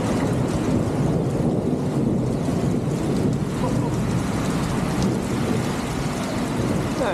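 Steady, dense rain falling outdoors in Derry, a continuous broadband wash with wind buffeting the microphone, loud and unbroken throughout with no voices.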